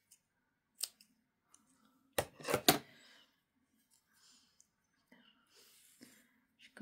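Scissors snip a martisor thread short, with a quick cluster of two or three crisp, close cuts in a quiet room, plus a few soft clicks and light breathing around them.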